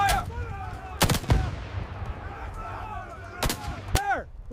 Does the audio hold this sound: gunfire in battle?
yes